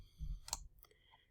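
Computer mouse clicks while trimming a class recording on a computer, a quiet brief click near the middle with a faint second click after, low and close against background hum.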